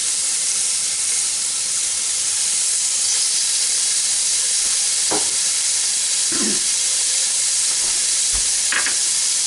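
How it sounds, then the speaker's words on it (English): Venison pieces browning in a cast iron pan for a stew give a steady, fairly loud sizzle and hiss throughout, with a few brief clinks and scrapes from the pan along the way. "You want to make sure that all the pieces get in here and get browned."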